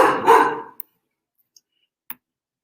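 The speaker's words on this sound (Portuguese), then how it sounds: "Gente, desculpa, é a minha cachorra aqui, viu?" A female dog at home lets out two quick, close barks in succession, followed by near silence broken only by a few faint clicks.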